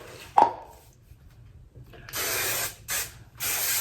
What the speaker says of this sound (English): I'll probably give it just one more dose of spray.